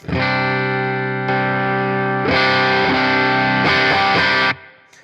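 Sustained electric guitar chords through a Dumble-style overdrive pedal, ringing out loud and warm, changing a few times before the notes cut off and fade.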